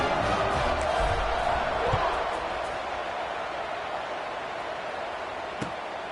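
A stadium crowd at an American football game roars in a broad, distant wash that peaks early and then eases into a lower, steady murmur.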